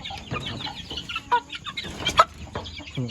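Backyard chickens, roosters and hens in Amnat Charoen, Thailand, give close, repeated clucks and short squawks in an irregular rhythm, with rustling movement between calls.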